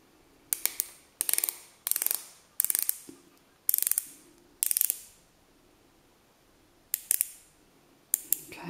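Rapid ratcheting clicks from twisting the click mechanism of a nail and cuticle oil pen come in eight short bursts with brief pauses between turns, close and crisp with no talk.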